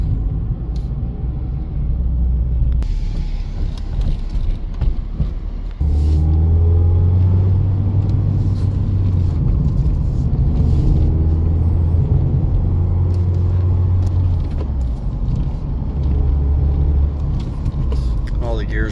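A red 2020 Mazda MX-5 Miata drives over bumps, giving a steady low road rumble and engine drone throughout, with occasional thumps and light rattles and voice-like tones mixed in.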